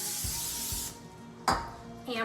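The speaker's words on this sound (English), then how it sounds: "we're gonna spray a 9x13 pan" Cooking spray hisses into a 9x13 baking pan for a Mexican cornbread casserole in one long close burst, followed by a short metallic clink and a brief second spritz.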